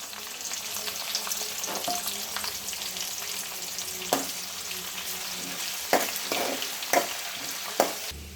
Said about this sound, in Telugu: నూనె కొంచెం వేగిన తర్వాత పచ్చిమిరపకాయలు వేసుకోవాలి. కొంచెం ఆనియన్స్, సరిపడా అల్లం వేసుకోవాలి.